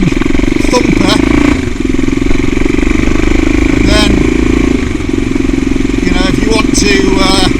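The single-cylinder thumper engine of a CCM Blackout motorcycle rumbles steadily on the road, loud and close with some wind, while a rider talks over it.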